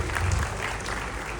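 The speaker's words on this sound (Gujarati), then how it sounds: "એમની માટે પણ જોરદાર તાળીઓ થઈ જાય." An audience at a creators' community event claps together in a short, dense burst of applause, close and steady, fading slightly toward the end.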